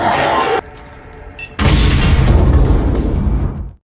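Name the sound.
explosion at airplane door in film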